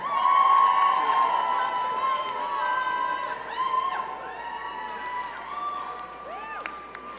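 A graduation ceremony crowd cheers and shouts steadily for the graduating students, with excited voices and whoops rising over a continuous roar that stays loud throughout.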